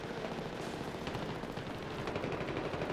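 Grenade launcher firing in a first-person shooter, a frag lobbed rather than a fired 320 round: dense, continuous rattling bursts of gunfire and blasts fill the whole stretch at steady loudness, with no talking.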